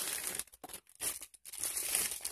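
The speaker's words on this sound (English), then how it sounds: "let's see, I got a plastic bag" A plastic bag crinkles and rustles in bursts while a mailed package holding a hand-forged hunting knife is unpacked, close and fairly quiet, with brief silent gaps between handlings.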